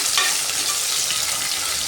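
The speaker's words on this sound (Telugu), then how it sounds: "ఉల్లిపాయలు వేసుకుంటున్నా, అలాగే పచ్చిమిరపకాయలు కూడా మొత్తం మిక్స్ చేసుకుందాం" Onions and green chillies sizzle loudly in hot oil in a cooker for chicken biryani while being stirred, making a dense, steady crackling hiss with no voices.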